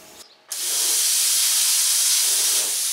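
A Cut 50D plasma cutter slices through a painted car body panel: a brief faint click, then a loud, steady, hissing roar that holds continuously until the end.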